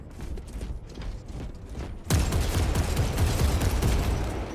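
Magazine reload and gunfire in the video game Warhammer 40K: Space Marine 2, Eternal War PvP; mechanical clicks and a loud burst of sustained shooting that starts midway, dense and continuous.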